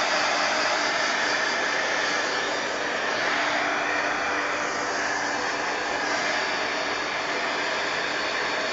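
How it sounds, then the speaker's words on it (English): A heat gun blasts steadily to dry paint on a mixed media piece, a loud, continuous roaring whoosh that holds evenly throughout with no talking. "trying to get my heat gun off. Hold your ears"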